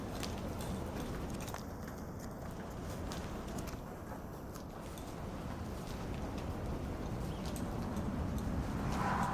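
Hooves of a show-jumping horse thud steadily on the ground, close and fairly loud, with a dense, continuous rustling texture and no voices.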